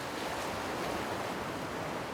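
Sea waves washing onto the shore of Sasudo, an uninhabited island south of Chujado, a steady wide rushing surf with no distinct breaks, fairly loud, no voices.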